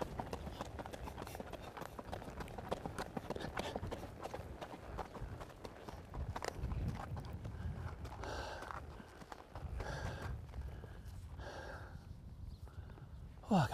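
Steady hoof clip-clops of a 12-year-old Icelandic horse walking under a rider, close and rhythmic, with faint breathing and movement noise and occasional distant voices.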